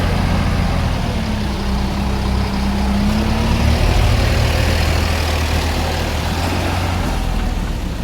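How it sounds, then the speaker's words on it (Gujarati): A Swaraj 963 tractor towing a JCB 3DX backhoe loader holds a steady, close, low diesel drone with an even rumbling tone throughout. "ટ્રેક્ટર બી નીકળે છે."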